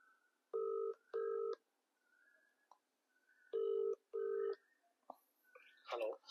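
A telephone places a call with paired ringback-style tones in two double bursts separated by a gap, clear against near silence, followed by faint rustling and a short voice near the end.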